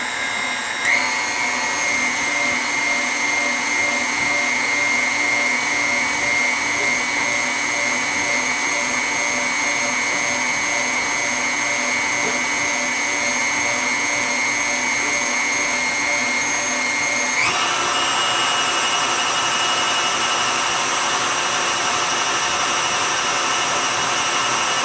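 An electric mixer whirs steadily through condensed milk frosting flavored with rose, a constant high motor drone that jumps up in pitch and loudness near the end when the speed changes.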